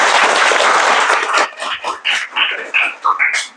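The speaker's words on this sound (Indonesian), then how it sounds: "beri aplaus dulu ya" Applause from a classroom of students, a loud burst of clapping that fades after about a second and a half into scattered, separate claps.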